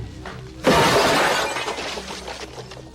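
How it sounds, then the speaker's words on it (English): Glass shatters loudly in a single crash as a man is thrown into a refrigerator in an 80s action film fight scene. Debris keeps tinkling and rattling as the crash slowly fades, with no talk over it. "And then RoboCop comes in, grabs the guy like this, throws him into the refrigerator"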